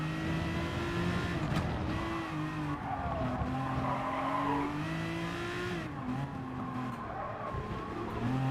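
Tyres squeal loudly on a Gr.3 race car lapping Cataluyna in GT Sport, the engine droning steadily beneath while the pitch of the squeal shifts through the corners, with no talking.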